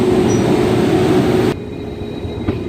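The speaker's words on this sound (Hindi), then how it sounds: "हम शहीद एक्सप्रेस को ही ओवरटेक कर रहे हैं यहाँ पे लुधियाना स्टेशन पे।" From inside a Jan Shatabdi train hauled by a WAP5 locomotive, a loud steady rumble of carriage and wheels rolls through Ludhiana station while overtaking the Shaheed Express, then drops sharply to a quieter hum.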